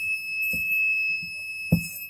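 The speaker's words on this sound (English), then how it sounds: "You can hear the buzzer also," A buzzer on an Arduino home automation setup sounds as an alarm, a thin steady high tone held throughout, with a couple of soft thumps of handling nearby.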